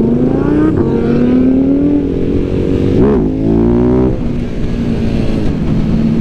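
Audi R8 engine revving loudly and close, a sustained roaring drone that climbs and dips with a quick blip near the middle, heard alone without talking.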